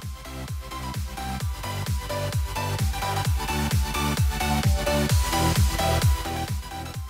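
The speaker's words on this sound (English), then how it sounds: "that fade in is going to sound like this" Rhythmic music with a steady, repeating beat plays throughout, its level climbing gradually from softer to louder in a fade-in, with no voices.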